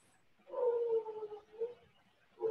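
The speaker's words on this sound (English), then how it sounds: "That is the upstairs dog." A dog howling from an upstairs flat, a faint, drawn-out wavering howl followed by two shorter yelping howls, muffled and distant in a quiet room.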